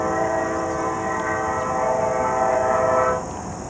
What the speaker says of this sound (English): Wonderful, peaceful morning sounds of nature and large diesel locomotives.